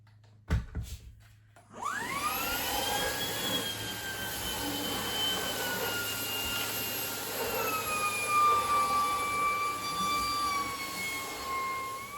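A Shark Carpet Xpert vacuum cleans couch cushions. A couple of clicks come first, then the motor starts up into a loud, steady roaring whine whose pitch shifts slightly as it works, with no voices.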